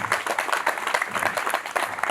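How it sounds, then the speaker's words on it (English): Crowd applause at an awards show for a custom car event, a dense stretch of clapping with pulsing surges throughout, fairly close and loud. "Round of applause for Mike"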